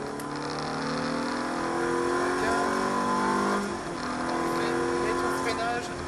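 Ferrari F430 F1 on the Michelin test circuit at Salon de Provence, its engine droning loudly and rising in pitch as it accelerates, briefly dipping at a gear change before climbing again, heard from inside the car.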